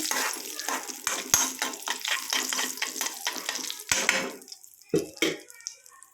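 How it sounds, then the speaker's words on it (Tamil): A spoon stirs nuts and cardamom in hot ghee for rava laddu, with a rapid run of clinks and sizzling scrapes against the pan that thins out into a few separate knocks. "ஆட் பண்ணி நல்லா நெய்யில் மிக்ஸ் பண்ணி விடுங்க"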